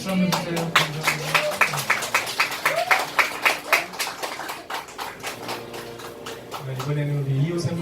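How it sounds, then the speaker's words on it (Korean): Audience applause at a café worship concert: a burst of clapping from a small crowd, rapid and dense at first, then thinning out while music or voices hum softly underneath. "박수 한번 주세요."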